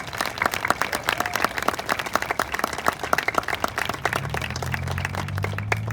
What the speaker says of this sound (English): Let's give a big round of applause to all of the students and staff